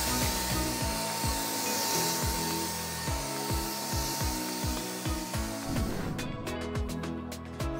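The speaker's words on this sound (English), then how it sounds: "I've turned the nozzle and now I'm spraying from left to right." A paint sprayer applies Frenchic paint to a kitchen cupboard, giving a steady close hiss over a rhythmic pulsing thump that cuts out shortly before the end.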